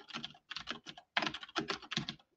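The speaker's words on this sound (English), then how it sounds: "watch this keyboard shortcut, Ahmed." A quick burst of typing on a computer keyboard enters a shortcut, with several clustered clicking keystrokes close and clear, falling into about six short groups.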